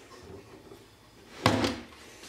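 A drawer in a makeup storage unit that doesn't open smoothly is pulled or pushed, making one sharp knock with a short scraping slide just after, fairly close and alone in a quiet room.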